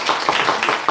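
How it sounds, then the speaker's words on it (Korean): Short burst of hand clapping from a church congregation during a Sunday sermon, a quick ragged patter of claps lasting under a second. "우리 박수 한번 쳐주세요."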